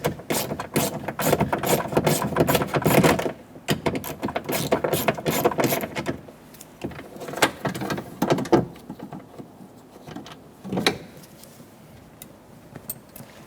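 A ratchet spins out a 10mm bolt from the rear door of a 2014-2018 Chevrolet Silverado 1500, giving rapid bursts of close, crisp clicking. The bursts come in clusters and fade into sparse, quieter clicks.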